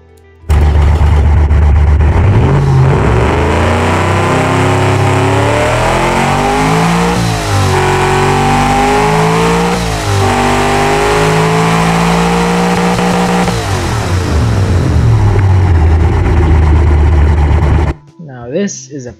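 A carbureted triple two-barrel engine in the Automation car game revs loudly and continuously, its pitch climbing and dipping through several sweeps before cutting off.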